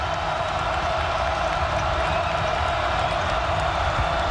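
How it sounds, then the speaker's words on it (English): Loud, roaring basketball arena crowd at NC State during a one-point North Carolina Tar Heels game, a dense steady wall of noise filling the whole span without letup. "Crowd deafening right now"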